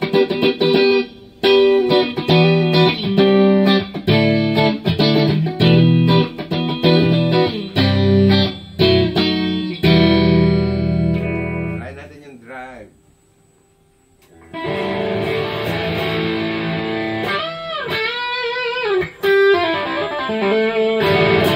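A brand-new electric guitar with pickups, freshly set up, is strummed loudly and close with a driven, slightly distorted tone in choppy chords, then pauses briefly before longer ringing strums and bends resume.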